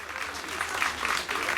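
Crowd applause for the winning rider at the Grand Prix de Fouchy cycling race, a steady dense patter of many hands clapping outdoors at moderate volume, with a voice talking over it.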